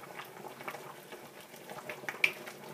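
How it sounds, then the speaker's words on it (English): Vegetable rabbit stock at a rolling boil in a pot, with a steady, soft bubbling and patter throughout and one brief bright clink near the end. "is now pouring that mixture in with the boiling vegetable rabbit stock"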